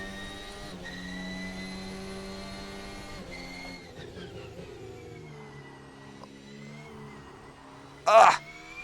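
A VRC Formula 1 2024 car racing in Assetto Corsa, its engine whining steadily at high revs and shifting pitch through gear changes, with a brief loud burst near the end.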